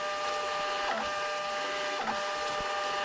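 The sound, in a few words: thermal label printer printing shipping labels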